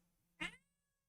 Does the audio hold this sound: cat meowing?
yes